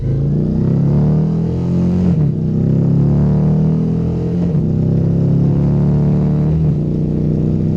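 Indian Challenger motorcycle engine under way, a loud steady mid-range drone with rising revs and brief dips at each gear change, close and continuous throughout.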